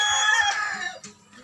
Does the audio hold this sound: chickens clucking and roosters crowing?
yes